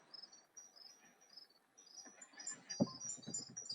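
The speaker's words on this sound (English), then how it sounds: "Crickets represent summer." Crickets chirp on a summer night in a room, their high, thin trills repeating steadily and fairly quiet, with faint rustling and movement noises rising underneath toward the end.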